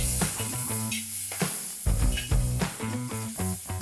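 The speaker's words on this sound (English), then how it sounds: "Now fry the onion till it is translucent" Finely chopped medium onion fries in a pan, giving a steady close sizzle and hiss broken by light stirring clatter and scraping, with no talking.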